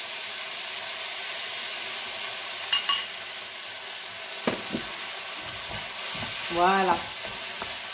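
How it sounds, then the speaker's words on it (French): Degreased chicken broth spooned into a hot jambalaya pan brings a soft, steady sizzle and hiss, with a few stirring clinks and a brief spoken word over the frying. "je rajoute progressivement quelques cuillères de bouillon de volaille dégraissé"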